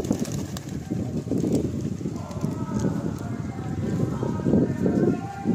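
Pet pigeons in a home loft in Nepalganj make soft cooing and rustling, with a continuous textured bustle of birds moving about close by and no clear speech.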